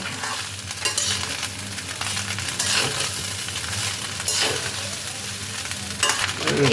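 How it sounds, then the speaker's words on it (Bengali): Rice and mixed vegetables stir-fried together in a pan for fried rice: a steady close sizzle with repeated scraping and tossing strokes of the spatula throughout. "এবার ভাতটাকে সব সবজি দিয়ে ভালোভাবে মিশিয়ে নেব।"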